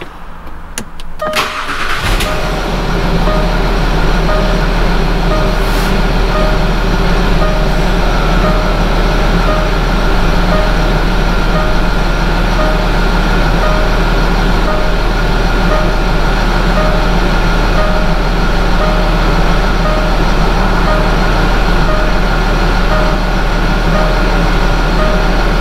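A Land Rover Discovery 4 engine cranks briefly and catches, then settles into a steady, loud, close idle that holds without a break.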